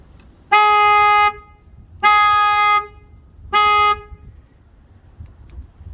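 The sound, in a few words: car horn honking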